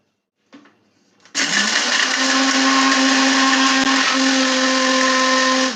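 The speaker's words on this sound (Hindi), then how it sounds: "अब हम इस सारे मसाले को ग्राइंड करेंगे।" Electric grinder whirring as it grinds black pepper, black cardamom, green cardamom and cloves, starting after a brief low rattle and then running loud and steady with a constant motor whine until the end.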